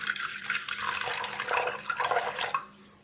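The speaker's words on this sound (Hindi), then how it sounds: "तो यहाँ पे हम इसमें थोड़ा सा पानी डालेंगे।" About 100 ml of water is poured into a bottle for a homemade balloon experiment, a close splashing stream that runs for a few seconds and then stops.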